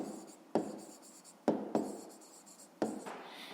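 A pen writes on paper in close, distinct strokes, with several sharp scratchy onsets that fade between marks.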